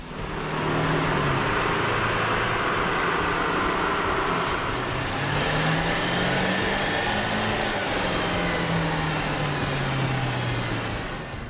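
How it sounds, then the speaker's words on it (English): A Ford F-350 with a 7.3-liter engine and a K&N aftermarket air intake runs on a dyno, a loud continuous engine drone with rising and falling pitch and a whistling intake tone climbing partway through. "With the air intake installed, we ran the vehicle on the dyno to test the sound comparison versus the stock intake."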